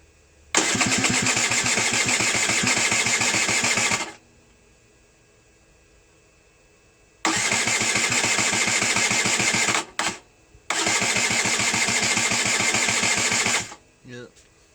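A Derbi Senda motorcycle engine fires up and revs hard for a few seconds, stops, then starts again in two loud bursts with a brief cutout between them. The running is up close and dominates, with short quiet gaps between the starts.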